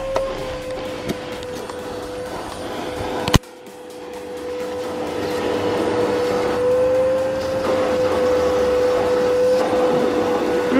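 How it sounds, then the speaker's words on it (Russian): A vacuum cleaner runs inside a car to clean the interior, giving a steady, close droning whine with a sharp knock partway through, after which the drone continues unbroken. "тут пылесосит"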